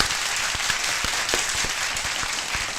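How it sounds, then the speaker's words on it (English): A steady wash of applause with a few sharper individual claps standing out, sustained without pause or voices. "A round of applause, people, to the people, to the MMA-Holes."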